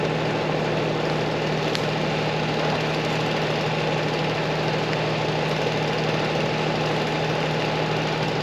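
A John Deere 4110 compact tractor engine runs steadily at a constant idle, a continuous low rumble with faint vibration, heard close and uninterrupted with no talking.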